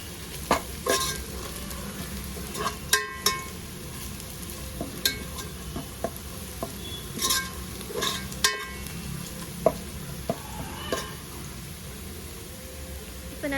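Onions frying and slowly browning in a pan for vegetable biryani, a steady close sizzle with scattered sharp clicks and scrapes of a spoon stirring throughout, no voices.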